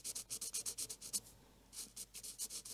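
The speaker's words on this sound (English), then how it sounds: "let's color with the fine nib." Arrtx alcohol marker with a fine nib colouring on paper: rapid, rhythmic squeaky strokes in bursts, a short pause, then another run of strokes, close and fairly quiet with no talking.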